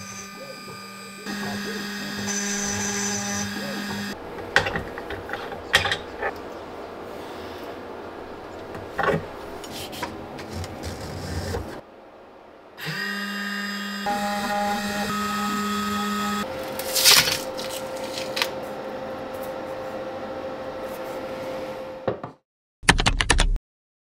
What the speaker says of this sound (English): ran the calibration and started the carving job